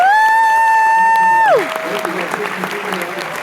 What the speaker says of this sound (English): Let's give a final round of applause to the team